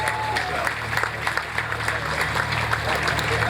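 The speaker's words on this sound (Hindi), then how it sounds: "आपकी बहुत सारी तालियों में ख़वातीन और हज़रात" Audience applause at a National Taekwondo Championship 2020 opening ceremony in Lahore, a steady sustained clapping from a sizable crowd with a hall-like spread and a voice faintly audible underneath.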